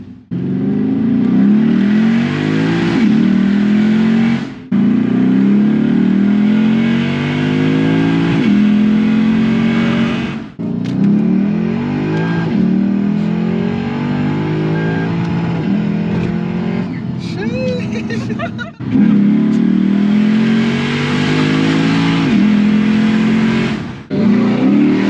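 A 2011 Lexus IS F V8 heard from inside during a ride-along: loud, close engine roar through repeated hard accelerations, revs climbing through the gears with brief dips at shifts, over about twenty-five seconds.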